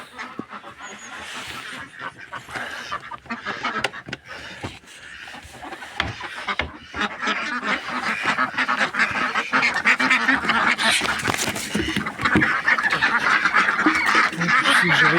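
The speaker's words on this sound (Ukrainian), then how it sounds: "Сьогодні планую сюди в цей загон підселити дві качечки." Ducks and other poultry in a farmyard pen give repeated quacks and goose-like honks, a busy overlapping chorus that grows louder and denser toward the end.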